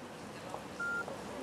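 A short, steady telephone dialing tone sounds once, quiet and clean, lasting about a quarter second over a faint background hiss.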